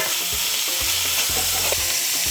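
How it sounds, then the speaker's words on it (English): Alligator tail meat sears in a hot pan, giving a steady, close sizzle broken by a few scraping stirs, with no voices. "See how that meat gets a nice little sear?"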